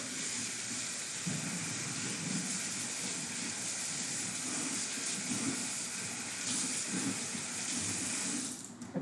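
Water runs steadily from a tap into a filling kitchen sink, a continuous close rushing and splashing that stays even throughout with no talking.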